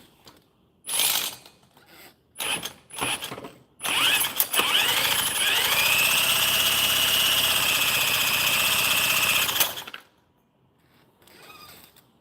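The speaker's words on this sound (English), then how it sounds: "That's how the motor works." Predator 212cc small engine during a live rebuild, running steadily near and loud for about six seconds after a few short bursts, then cutting off abruptly; brief mechanical clanks before and after.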